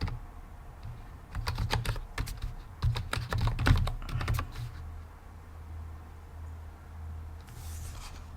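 A computer keyboard is typed on in a quick burst of clicky keystrokes, entering the sudo netdiscover command in Kali Linux, close and clear against a faint room hum, followed by quiet.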